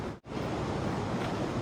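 Water is poured over a lechon in a steady, close, rushing splash that continues after a brief pause near the start, with no talking.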